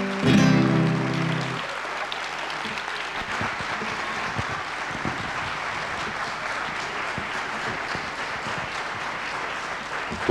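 Audience applause after a stage performance at a theatre show, sustained dense clapping from a crowd that continues steadily at an even level after a brief loud sound at the start.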